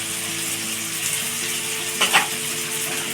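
Green chili paste sizzles in a hot pan for chole bhature, a steady close frying hiss with a brief burst of scraping as it is stirred.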